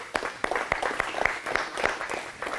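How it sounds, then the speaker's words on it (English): A small group gives a short round of applause for Park Tool and Souders. The claps are loose and individually audible, moderately close and fairly quiet, lasting only a couple of seconds. "If we got a big round of applause for both of them."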